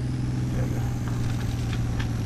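A truck engine in Spintires drones steadily at a low, even pitch while driving on a mountain road, a constant loud hum with slight surges and no pauses.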